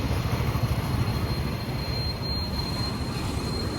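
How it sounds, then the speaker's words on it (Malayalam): Steady low rumble of a train rolling into Kozhikode station, with a thin high metallic squeal from the wheels running throughout. "കോഴിക്കോട് ട്രെയിൻ വരുന്ന സമയത്ത്"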